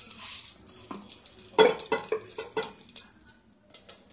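Mustard seeds sizzle and crackle in a spoonful of hot oil for a tempering, with sharp clinks and scrapes of a metal spoon against the pan in a quiet kitchen.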